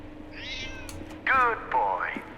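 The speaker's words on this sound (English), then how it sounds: "Lux, who's a clever cat?" Lux, a cat in the video game Lightmatter, meows three times, one drawn out and then two louder rising calls, over a low background hum.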